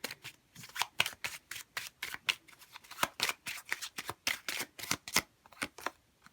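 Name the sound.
shuffling tarot cards to draw one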